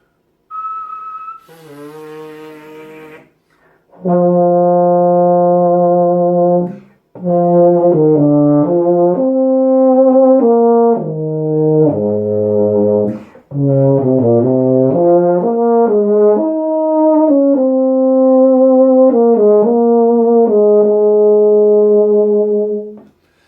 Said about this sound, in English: So I hope you want to start playing the euphonium